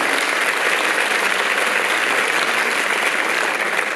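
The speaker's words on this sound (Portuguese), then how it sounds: "Um aplauso para o Thiago Salgueiro." Audience applause fills a literary festival gathering, a loud, dense and steady clapping from a large crowd that holds evenly throughout, with no speech over it.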